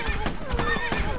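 Horses neigh and whinny loudly in a tower-defence game, several calls in quick succession over continuous clip-clop hoofbeats and game noise, with a voice in the background.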